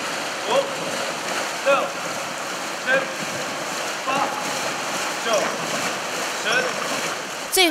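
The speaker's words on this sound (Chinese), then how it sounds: "龙舟队会在游泳池将长椅摆入水中，在队长的口令下整齐一致的划水。" A dragon boat team paddles in a swimming pool from benches set in the water, the strokes landing as regular splashing surges about once a second over a steady wash of churned water.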